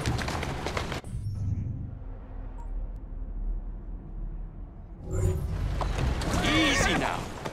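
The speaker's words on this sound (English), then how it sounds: "Who's a good horse? You are." A horse in the video game Assassin's Creed Syndicate lets out loud whinnies, one at the start and a longer one near the end, over a low rumbling background.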